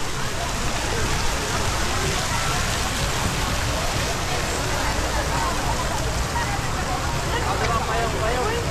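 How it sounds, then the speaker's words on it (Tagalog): Heavy rain pours down at night in Davao City, Philippines, in a dense, constant roar that fills the whole scene without letting up. "Sobrang lakas ng ulan."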